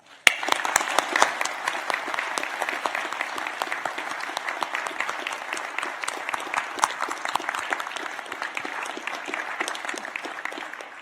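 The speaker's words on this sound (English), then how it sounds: "Please join me in applauding the wonderful achievements of our graduates." At a university graduation ceremony in Newcastle, Australia, the hall audience applauds the graduates with sustained, crisp clapping, many individual claps distinct within the steady wash, going on for about eleven seconds.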